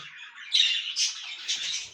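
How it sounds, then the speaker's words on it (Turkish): Harsh, raspy bird squawks in repeated bursts, fairly close, with no other sounds around them. "Kuşlar ben yaklaşınca kaçıyorlar arkadaşlar mamaya."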